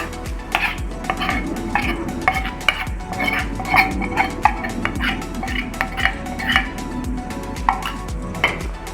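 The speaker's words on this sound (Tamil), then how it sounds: "இதெல்லாத்தையும் நல்லா நம்ம மிக்ஸ் பண்ணிக்கலாம்." Adai dosa batter being mixed with sautéed onions in a vessel: rapid, steady clinking and scraping of a spoon against the metal bowl, close and fairly loud, with no talking.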